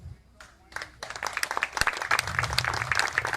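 An audience at a political talk breaks into scattered clapping that grows denser and louder over a few seconds, heard from within the room after a short pause in speech.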